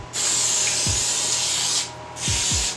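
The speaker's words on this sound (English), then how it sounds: "I'm just gonna spray all around the edges." Cooking spray hisses from a can onto the edges of a cake pan in two close bursts separated by a short pause, each with a faint tap of the can or pan.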